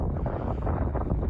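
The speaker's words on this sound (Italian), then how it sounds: "qui ragazzi tira un vento gelido" Icy wind gusts across a winter mountain summit at the Melette di Gallio on the Asiago plateau, buffeting the microphone with a dense, steady roar and no voices.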